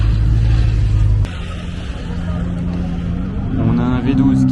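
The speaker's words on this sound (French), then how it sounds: "On a un V12 qui arrive." A V12 supercar pulls up in the rain, its low engine rumble starting loud and close, then easing back into a rising drone as someone talks over it in French.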